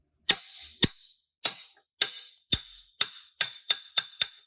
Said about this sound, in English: Now I want to free up the axle, so instead of hitting this, I use a brass.